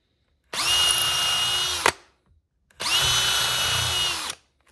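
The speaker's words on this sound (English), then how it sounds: "I'm going to go ahead and drill a hole through this piece and down into my next one." A power drill whines loudly through wood in two sustained bursts, each about one and a half seconds long, separated by a brief pause.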